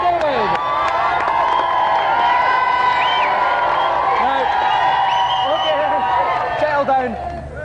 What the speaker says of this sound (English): Round of applause for David.